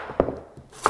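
Two sharp knife chops go through sweet potato on a cutting board, spaced apart, close and crisp with quiet in between.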